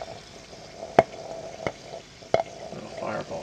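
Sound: hydrogen bubbles popping from gallium-aluminium reaction in water

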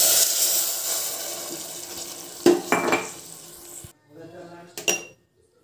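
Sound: pouring milk into roasted vermicelli in a pan

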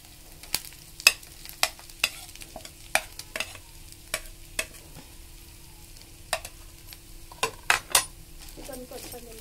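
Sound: chicken stirred and frying with onion, ginger, garlic, green chili

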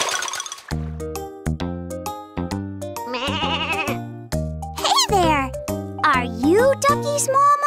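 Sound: sheep bleating

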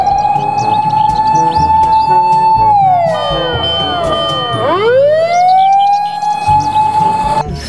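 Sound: fire engine siren

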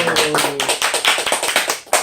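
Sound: applause

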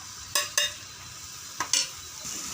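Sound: sautéing ground ginger garlic paste with spices in pan

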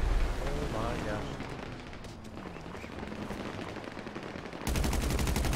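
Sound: gunfire in video game GTA 5 Online

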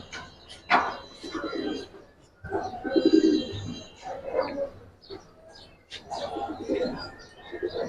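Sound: Giribaz and coloured pigeons cooing

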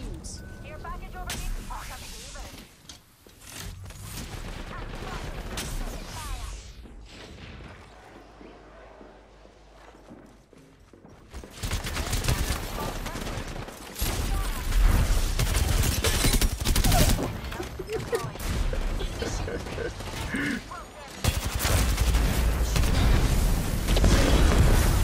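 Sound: gunfire in the video game Apex Legends

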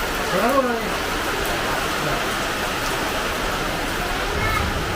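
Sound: rain falling

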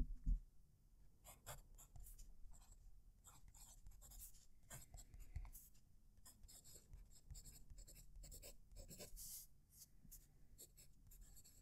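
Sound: pen writing on Fabriano paper

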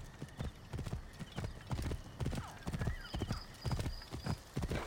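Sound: horse hooves and neighing in video game Assassin's Creed Origins

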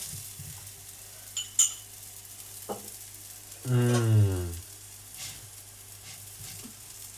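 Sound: ragi roti cooking on a pan with oil

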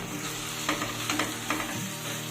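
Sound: stirring taro leaves cooking with shrimp in a pot

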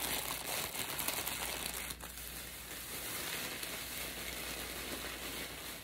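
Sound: items being put back into a crinkling plastic bag

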